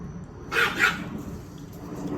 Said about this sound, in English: 2 Chihuahuas enter, 1 Chihuahua leave.